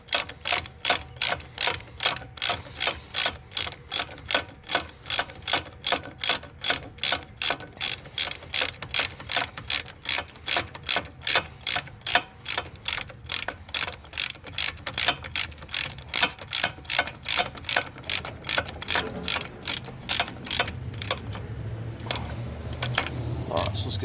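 A hand ratchet clicks in a fast, steady rhythm while tightening transmission bolts on a 2013 Nissan Murano during a CVT replacement, loud and close for over twenty seconds before slowing near the end.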